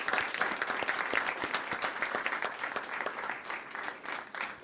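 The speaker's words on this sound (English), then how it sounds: "Can we have a nice round of applause for Mrs." Applause at a school board meeting for a county teacher of the year, a modest room of hands clapping steadily at moderate distance, fairly quiet and continuous throughout.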